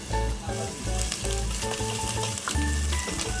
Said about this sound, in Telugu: ఆయిల్ వేడెక్కిన తర్వాత వెల్లుల్లిపాయలు వేసుకోవాలి, సన్నగా తరిగిన వెల్లుల్లిపాయలు